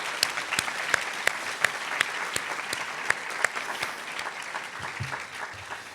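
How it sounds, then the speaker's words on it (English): Conference audience at EEID 2022 applauding, a fairly sparse, moderately distant patter of many hands with a few sharp individual claps standing out, tapering gently toward the end; no talking. "please join me in applause for all these people"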